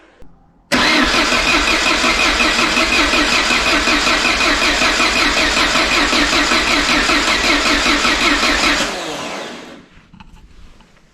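A Peugeot 205 GTI engine cranking on the starter motor, a loud rapid chugging that runs steadily for about eight seconds before cutting off, close with no talk.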